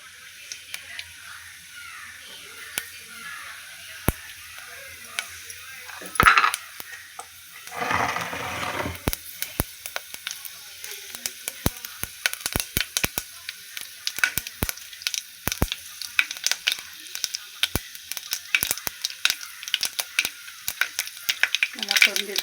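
Mustard, fenugreek and fennel seeds fry in hot oil for a kodi kavalai fish kuzhambu, producing a soft sizzle under rapid, scattered crackles and pops that grow denser over time, with a brief stirring scrape partway through.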